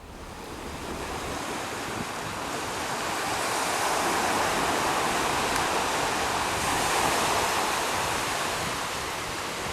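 Ocean surf rolls and washes in a steady, broad roar that swells slightly midway, mixed with wind noise and no voices.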